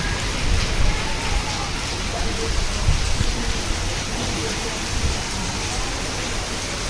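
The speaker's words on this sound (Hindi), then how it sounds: "अब हो गई बारिश तेज, बादल गरज रहे हैं।" Heavy rain pouring down in a steady dense hiss, with low rumbles of thunder underneath, continuous throughout.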